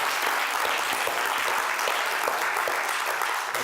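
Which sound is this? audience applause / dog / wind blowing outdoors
audience applause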